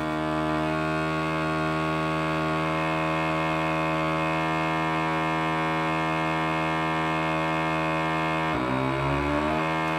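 A Silvercrest SVEB 160 B2 vacuum sealer pumps air out of a bag with a loud, steady motor hum and drone. Near the end the tone shifts as the pump labors and the pitch drops.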